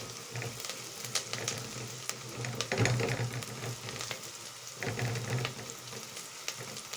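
Onion fries in a pan until golden, giving a steady close sizzle with occasional louder bursts of stirring.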